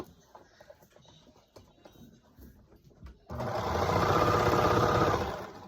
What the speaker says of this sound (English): just serge straight down that line